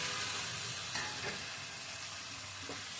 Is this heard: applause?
no